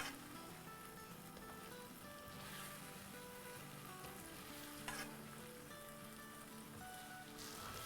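Bay leaves and black cumin (shahjeera) frying in hot oil for Sindhi biryani, a soft, even sizzle and crackle that runs without a break, quiet and close, with no voices.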